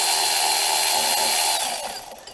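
A power ratchet whirring steadily on a power steering pump bolt of a 2007 Pontiac G6, loud and close, tapering off over the last half second.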